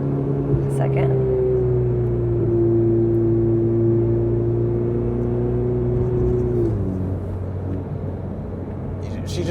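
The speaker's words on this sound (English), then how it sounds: "Go ahead and downshift and see if it makes any noise at all." A Ferrari 488 downshifts on its paddles, its steady engine hum and whir dropping in pitch about two-thirds of the way through as the gears change, with the cabin otherwise fairly quiet.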